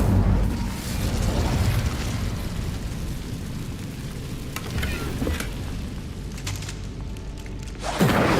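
A fire spell, Incendio, cast in Hogwarts Legacy, heard as a sustained loud roaring whoosh of flame that rumbles on for several seconds before a sharper burst near the end.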